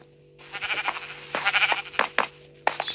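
Sheep bleat in a video game, a few near, clear bleats in quick succession over a faint steady hum, each call short and wavering.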